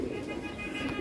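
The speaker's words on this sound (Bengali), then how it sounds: "খুব সুন্দর কবুতরটা মাশাআল্লাহ" A racing pigeon coos close by, a low steady rolling murmur that fills the brief moment.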